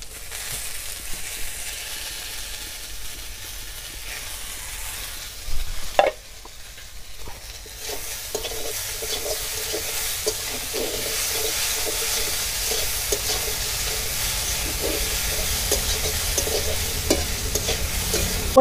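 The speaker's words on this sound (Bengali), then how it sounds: "রসুন দেওয়ার পরে ভালো করে ভেজে নেব" Garlic and thankuni leaves frying in a pan, a hissing sizzle broken by repeated scraping stirs, with a louder clatter around a third of the way through and brisker stirring toward the end.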